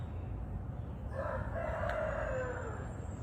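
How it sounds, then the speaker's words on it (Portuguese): A single rooster crows once at a distance, a drawn-out call over constant low background rumble. "Olha o galo."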